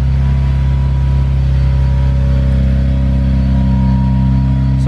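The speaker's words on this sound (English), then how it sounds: "Let's get a cold startup." A Honda S2000 with black mufflers idles after a cold start, a loud, steady, droning engine hum with strong low harmonics holding even and unbroken throughout, no speech.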